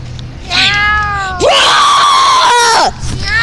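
A person imitates cat meows: two long, wavering, loud meow-like cries, the second higher and more strained, close to the listener with quiet background hum between.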